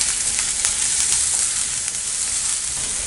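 Onion sautés in hot oil with tempering of asafoetida and curry leaves, a loud, continuous close sizzle with faint crackles and no talking.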